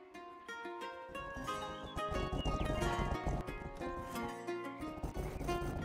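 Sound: horse hooves while riding, from video game Rustler

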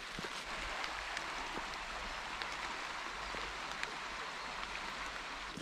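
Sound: heavy rain falling on a walk by Loch Venachar

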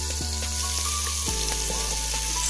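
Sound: garlic, chili and onion frying in butter

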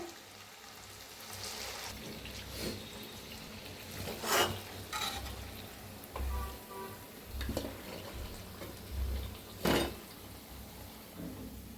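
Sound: chakli snacks frying in oil

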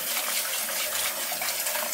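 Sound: rinsing a jug with warm water

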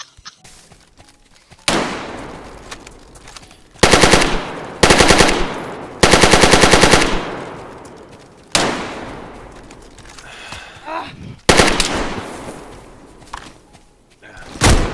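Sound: AK rifle gunfire in a video game

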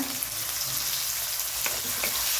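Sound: curry leaves and shallots sautéing in hot oil

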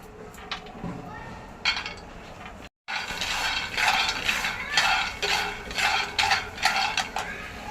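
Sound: dry roasting peanuts in a pan on low flame

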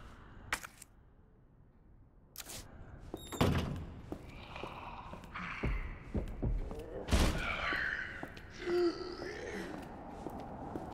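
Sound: enemy stomping through a door, Resident Evil 2 video game

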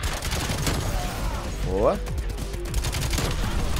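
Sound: automatic pistol AMP63 gunfire in Call of Duty Cold War video game

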